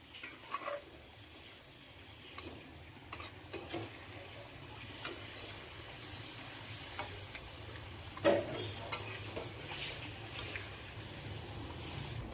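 Pumpkin pieces are stirred with spices in a frying pan, giving a faint, low sizzle with scattered scrapes and clinks from the utensil across the pan.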